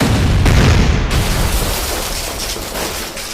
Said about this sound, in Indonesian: Kita harus menembaknya dengan tepat.